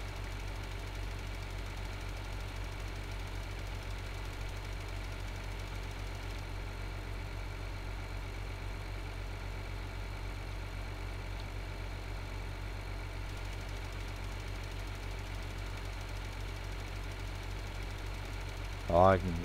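A farm tractor engine in the Landwirtschafts-Simulator video game hums at a steady low idle-like drone throughout, faint and constant, ending with a brief louder blip.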